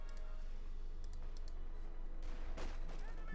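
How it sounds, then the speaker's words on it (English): Light machine gun fire in Company of Heroes 2: a rapid, continuous rattle of bursts over a steady bed of battle noise, with a brief louder swell near the end. "light machine gun fire there"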